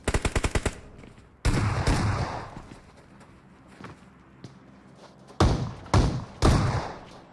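Gunfire in PUBG Mobile during a league finals match: a rapid opening burst of automatic shots, then several heavy, loud single blasts later on, with quieter ambient game sound in between.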